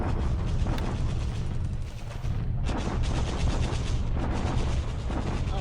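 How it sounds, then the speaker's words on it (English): Artillery bombardment in a WWII strategy video game, a dense, continuous barrage of booming shell blasts and rattling gunfire, loud and sustained with a brief dip midway. "That's another bombardment to waste supplies."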